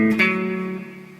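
A short guitar phrase from a song, a struck chord or note ringing out briefly and then decaying, alone without voices.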